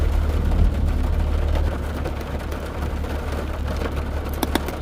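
Heavy rain falls steadily and close, a dense continuous hiss with occasional drip taps near the end; no one speaks.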